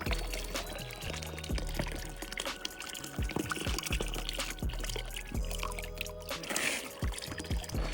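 Cold natural spring water flows and pours steadily beside a rock canyon trail, a continuous close splashing trickle with irregular drips and low rumble throughout.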